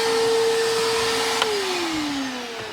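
A household vacuum cleaner runs loud and steady with a constant whine, its motor pitch dropping slightly near the end as it winds down a little.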